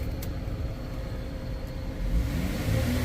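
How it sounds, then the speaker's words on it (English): Engine of a 2016 Chrysler Town & Country minivan revving, a steady mid-pitched rumble that swells louder near the end, heard close with no talking. "Rev it up, it sounds great, man."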